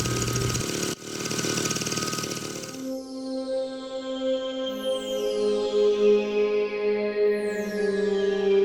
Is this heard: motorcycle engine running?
yes